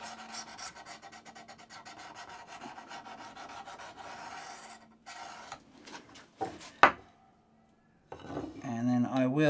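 A draw knife is honed on diamond paddles of about 1200 grit. Repeated rhythmic rasping strokes of metal on abrasive run close up, then break into a few scrapes and a sharp clink.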